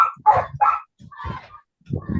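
A small dog barks in short, close bursts, a quick run of three yips followed by a pause and more barks, loud and with no talk over them.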